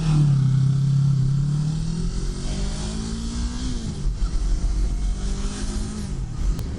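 New Yamaha R3 motorcycle engine while riding, a loud rising hum that drops as the rider shifts, followed by rougher wind-buffeted engine noise with uneven bursts.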